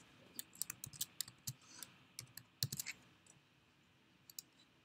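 Typing on a computer keyboard: quick, crisp clicks in irregular bursts, clustering early and mid-way, then a few isolated taps near the end, close and fairly quiet.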